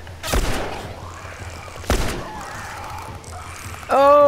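Two sharp, loud gunshots roughly a second and a half apart in The Last of Us Remastered amid a zombie swarm, each ringing out over a low rumble before a strained voice-like cry at the end.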